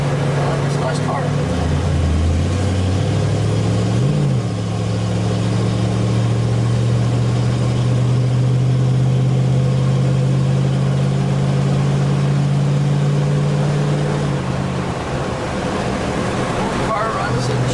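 A 1974 Ford Bronco with a 3-speed transmission runs steadily, its engine note climbing and settling as it shifts, a loud close drone held for most of the stretch before easing off, with a voice present in the background.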